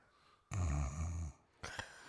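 A person imitates snoring with two drawn-out, rumbling nasal breaths, the first longer and louder, close and alone without other talk.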